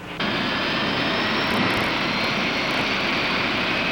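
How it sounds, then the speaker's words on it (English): A military airplane's engine roars loudly and steadily on an aircraft carrier deck, a broad sustained jet-like wash starting abruptly and holding constant throughout. "this will be the airplane on which the others will rendezvous"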